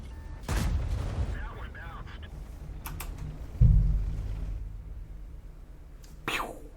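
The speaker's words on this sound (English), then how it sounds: "Pew! Ricochet." Sharp shell impacts and a ricochet from a tank video game: a few separate loud bangs with short decaying booms, spaced apart over quiet background with faint speech.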